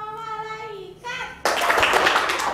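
Young children in an Indonesian class sing a short chant together, then break into loud, close group clapping in unison that fills the last second.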